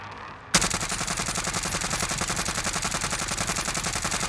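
Suppressed automatic rifle fire from the Agency Suppressor in Warzone, a steady rapid burst that begins abruptly after a brief quiet lead-in and continues loud and rhythmic to the end.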